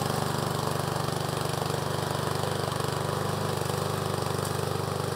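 Remote-control lawn mower from Amazon running steadily with a constant buzzing engine drone and rapid mechanical pulsing, close and unbroken throughout.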